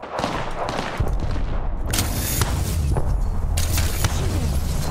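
Bursts of rapid gunfire in the video game Apex Legends crack and pop repeatedly, with heavier booming shots mixed in amid a dense, noisy battle.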